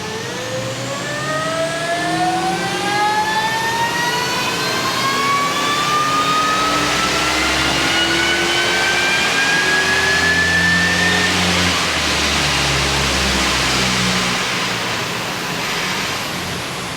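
Supercharged 5-litre Ford Barra engine revving on a dyno, a loud continuous roar whose pitch climbs steadily as the RPM rises, alone without talk.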